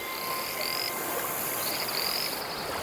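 A dense chorus of poisonous invasive frogs croaking along a river, continuous and fairly loud with overlapping calls and no talking.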